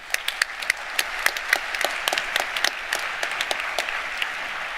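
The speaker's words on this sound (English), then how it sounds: "A round of applause for Joseph." Audience applause fills a hall at the 4th World Congress on Agroforestry, steady and moderately loud, with many individual claps popping out of the dense clatter across the whole stretch and no talking.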